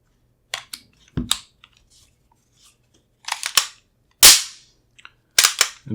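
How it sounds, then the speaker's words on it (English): Metal parts of a Sig P210 pistol click and clack sharply as the slide stop is dropped in, a handful of crisp, close, separate snaps spread over several seconds with quiet gaps between. "Drop the slide stop in."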